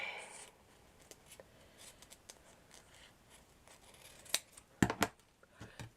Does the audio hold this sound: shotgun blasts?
no